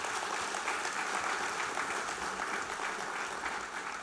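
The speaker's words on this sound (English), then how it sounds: "Give them a round of applause." An audience at a government housing key distribution ceremony applauds steadily, dense clapping from many hands throughout, gradually easing slightly toward the end.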